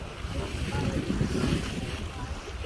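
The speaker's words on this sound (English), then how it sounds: "I'm enjoying the sun and the incredible sailing" A sailboat under sail in sunshine, making about 5.5 knots, with steady wind rush and wash of waves against the hull forming a continuous broadband roar, no talk.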